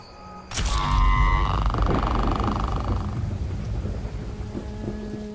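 A sudden video-game crack of thunder rolls and rumbles over steady evening rain, then fades into a continuous patter of rainfall.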